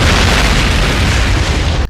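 A grenade explosion from the action film Class of 1999 II: The Substitute, a loud, sustained booming blast with a full roar that holds for nearly two seconds and then cuts off sharply.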